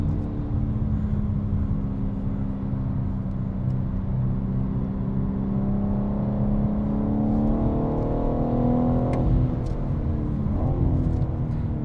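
A BMW M4 laps the Nürburgring, its engine droning loudly and continuously from inside the car, with pitch climbing and shifting as it accelerates and a few sharp clicks near the end.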